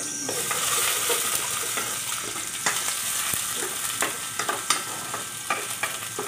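Onions frying in a pan, with steady sizzling and hiss broken by sharp scrapes and clacks of a utensil stirring, close and clear, with no talking.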